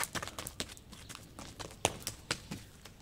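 A horse shown by its owner walks across the ground, its hooves clip-clopping in a fairly steady rhythm of sharp, close knocks, with no one talking.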